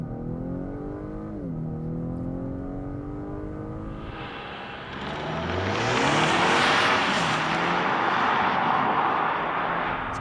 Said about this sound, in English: 2024 Acura RDX. Platinum Elite A-Spec without launch control.